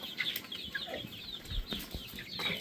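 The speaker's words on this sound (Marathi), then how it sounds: "आज कोंबडीची पिल्ली जी आहेत तर ती बाहेर सोडलेली आहेत" Chicks and hens let out outdoors on a farm cluck and chirp softly at a moderate distance, with occasional faint wing flutters in the background.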